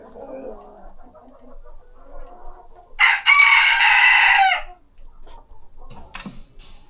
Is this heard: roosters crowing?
yes